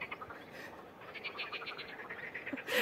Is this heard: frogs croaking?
yes